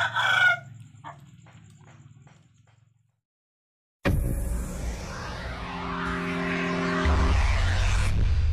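A young rooster, five to six months old, crows loudly and close by, a strained, uneven call rising after a few soft clucks and a brief silence.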